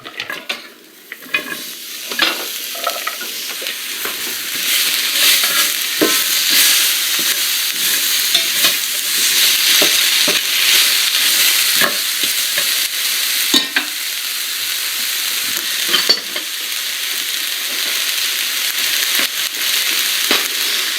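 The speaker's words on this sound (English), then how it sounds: "into the same pan, we are going to add our onions" Onions sizzle steadily in a hot pan while a utensil scrapes and stirs them in repeated strokes, a close, continuous frying hiss with no talking.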